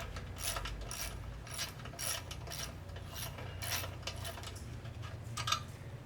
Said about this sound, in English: Now undo this bolt in the front.